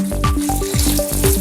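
Hot water is poured over raw chicken, making a loud, close, continuous splashing and sizzling rush with no pauses.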